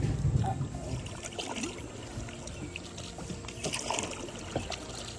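Canoe or kayak being paddled on the Rainbow River in Florida, soft water trickles and dribbles from the strokes, faint and close with gentle splashes throughout.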